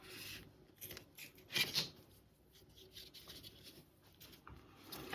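Scissors snip through knitted yarn in a quiet room, a couple of short, close cutting sounds amid soft rustling and handling noise.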